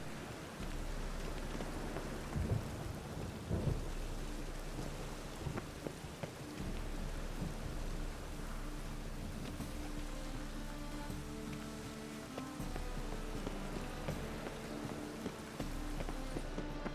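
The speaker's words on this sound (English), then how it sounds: "Rain." Steady rain patters continuously with a low thunder rumble underneath in the video game The Witcher 3, a dense, even wash of sound with occasional faint knocks.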